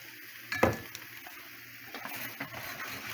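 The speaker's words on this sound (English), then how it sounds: "Then stir it like that. This way the egg will be cooked." A spatula stirs egg frying in a pan for fried rice. Steady sizzling sits close, with a sharp scrape and clink near the start and softer stirring scrapes after it.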